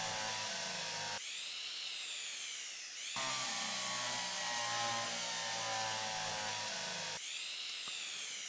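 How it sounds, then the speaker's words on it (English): Cordless drill in the Derail Valley train simulator, whirring in several sustained bursts with brief pauses between, close and loud, used to secure parts to a bulkhead. "Get the drill"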